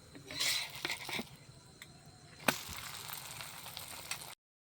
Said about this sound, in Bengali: ভালোভাবে ভেজে নিতে হবে ডিম দিয়ে লাল লাল করে। আর একটু তেল দিয়ে দিলাম।